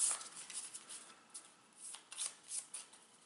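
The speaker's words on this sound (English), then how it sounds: "I'm going to have to shuffle these." Playing cards being shuffled by hand during a Legendary Buffy the Vampire Slayer deck-building game, a close, soft run of papery riffles and flicks in uneven bursts with nobody talking.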